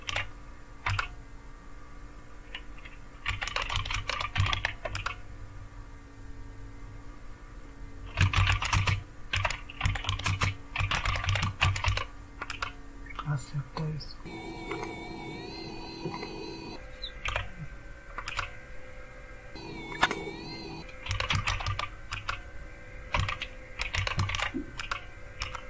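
A command is typed on a computer keyboard while working in Fedora 37 Kinoite, with bursts of close, rapid key clicks and pauses between them, continuing throughout with no talking.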